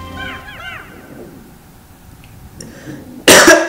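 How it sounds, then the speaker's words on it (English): One loud, harsh cough bursts out abruptly near the end, following several seconds of quieter chirping game sounds. "Wow, first time I coughed in a while."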